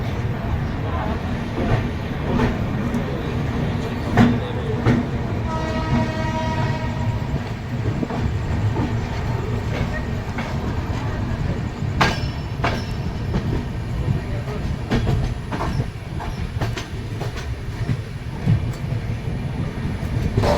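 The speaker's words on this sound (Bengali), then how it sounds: "রাঙ্গিয়া জাংশন থেকে ট্রেন ছেড়ে দিয়েছে" Kamakhya–Delhi Brahmaputra Mail rolls on after departing Rangiya Junction, a steady moderate rumble of coaches with rhythmic wheel clatter, brief squeals and a short horn-like tone partway through.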